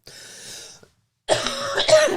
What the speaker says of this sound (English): Try not to ruin the story with this cough.